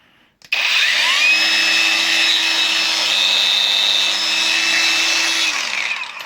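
A cordless angle grinder spins up from silence and runs steadily at high speed for several seconds, a loud continuous whine with a steady motor hum beneath, then begins to wind down near the end.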